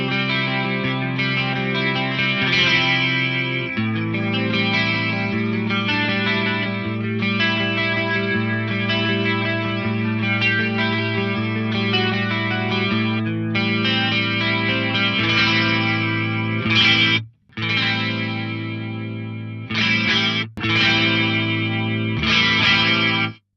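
A guitar runs through a Clark Technic BBD 320 stereo chorus rack unit set to mode 3, alongside parallel compression. The distorted, sustained chords shimmer with a wide, swirling modulation and play continuously and loudly, with only a couple of brief gaps near the end.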